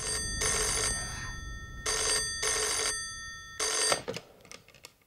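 A telephone bell rings in a film scene, the minister's call in a Bengali-dubbed South Indian action film. Four loud, even bursts of ringing are separated by short pauses, with a fainter fading tail at the end.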